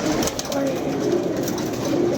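Pigeons coo in a loud, busy outdoor mix while being handled, soft throaty calls running under steady broadband noise and some talk nearby.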